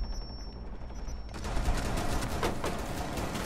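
Video-game gunfire breaks out after a quiet moment, with dense, rapid bursts of shots that stay loud and steady to the end.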